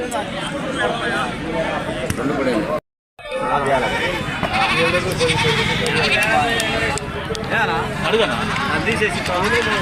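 Goats bleating repeatedly amid a crowded livestock market in Andhra Pradesh, close and loud over steady crowd babble and people talking, with a brief dropout partway through.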